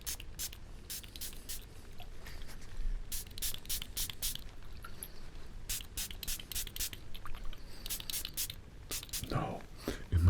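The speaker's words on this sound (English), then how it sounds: "let's give it a spray here" Perfume spritzed from a fragrance bottle in a quiet fragrance shop setting, giving a series of short, crisp hissing bursts close to the listener. The sprays come in quick clusters over soft, breathy low-level sound.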